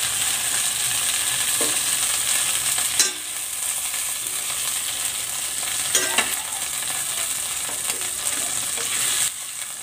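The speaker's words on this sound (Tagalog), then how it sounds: "Gigisa ko na tong bawang." Garlic sautés in a pan for chicken soup, a continuous close sizzle with scraping clicks from stirring at a few points and no voices.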